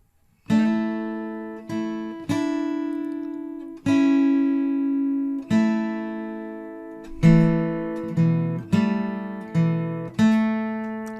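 Plucked guitar notes ring out one after another, some sliding up in pitch, each note decaying before the next is picked.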